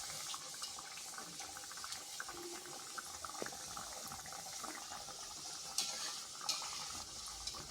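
Nimki pastry fries in oil in a pan over a medium flame, giving a steady, faint bubbling sizzle with a few sharper pops, and no talking.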